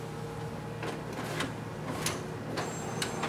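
A Ricoh MP C2550 copier's document feeder pulls pages through with a close, steady mechanical hum broken by sharp, regular clicks and ticks as each sheet passes.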